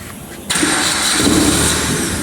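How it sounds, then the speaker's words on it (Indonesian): A fuel-injected car during an engine tune-up cranks and catches about half a second in, then settles into a steady, close idle with no talking. "Kendaraannya dinyalakan."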